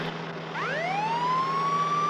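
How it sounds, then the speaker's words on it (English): A police car siren winds up from low to a sustained high wail over a steady vehicle hum, loud and close. "Put the siren on."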